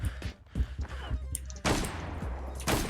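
Gunfire in the online shooter Zula, with broadband shots and bursts at about 1.6 s and 2.6 s sustaining heavy, close fire, preceded by scattered thumps and faint speech-like sounds.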